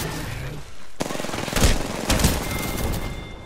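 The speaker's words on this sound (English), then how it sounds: "Getting shot at." Video game gunfire rattles out as rapid automatic bursts in two or three clusters, fairly close and loud, with a sharp crack at the start and a little background noise in between.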